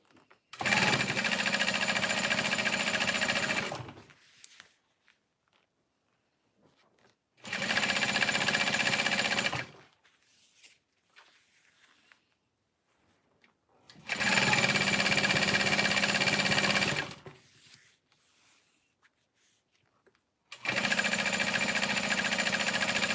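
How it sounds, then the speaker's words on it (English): Sewing machine stitching vinyl runs in four separate bursts of roughly two to three seconds each, with near-silent pauses between them, the motor humming close and steady each time. "then we'll sew the other side down"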